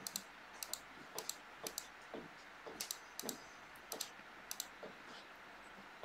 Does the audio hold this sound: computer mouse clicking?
yes